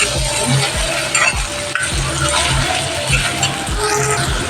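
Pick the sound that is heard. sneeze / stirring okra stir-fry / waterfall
stirring okra stir-fry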